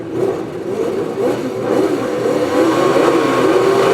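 Sidecar speedway outfits launch off the line at a race meeting in Highbridge, a loud, continuous engine roar with rising revs from several machines close by, with no talk over it.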